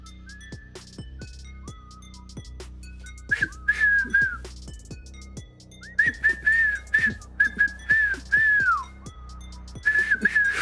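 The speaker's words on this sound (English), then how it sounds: "How am I at whistling? Pretty bad," Someone whistles a wavering, uneven tune in short phrases, close up, with a few clicks and thumps between notes.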